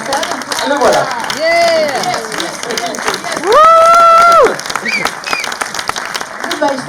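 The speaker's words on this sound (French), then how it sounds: "sous les applaudissements de la salle" An audience in a hall breaks into loud, dense applause as a guest is welcomed, clapping rolling on for several seconds with high whistles and voices rising above it.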